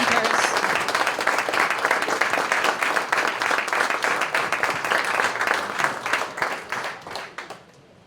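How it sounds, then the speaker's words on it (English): Sustained audience applause for student presenters at a youth entrepreneurship competition, steady and full from the start, then tapering off and fading out near the end. "let's have one last round of applause to all of our student presenters"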